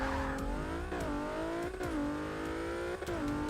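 Race car engine in Forza 6 racing game, Porsche 918 or Toyota Celica, revving high and climbing with quick power shifts, pitch dropping sharply at each gear change about every second, loud and continuous.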